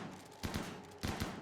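Two bursts of shotgun fire from the video game RimWorld, each a short cluster of sharp cracks, evenly spaced about half a second apart and standing alone without talk.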